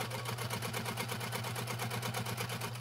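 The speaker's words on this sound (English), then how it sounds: "Start sewing at the side tabs, backstitch a few times, sew all the way down." A sewing machine stitches cork fabric at an 1/8 inch seam with backstitching, giving a steady, rapid, evenly pulsing mechanical whir close by that runs without pause and without talk.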